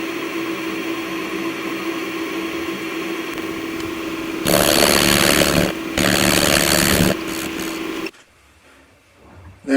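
A compact power hacksaw cuts through metal held in a vice, a loud, steady mechanical buzz that swells for several seconds, pauses briefly, runs again, then cuts off into near quiet.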